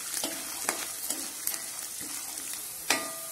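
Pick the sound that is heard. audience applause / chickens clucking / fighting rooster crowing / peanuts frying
peanuts frying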